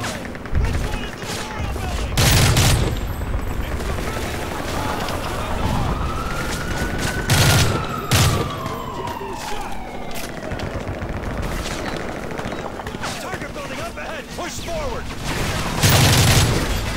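Repeated gunfire bursts from the video game Call of Duty: Modern Warfare 3, loud close volleys at intervals over a steady battle din with a siren-like rising tone, while a player talks over the action.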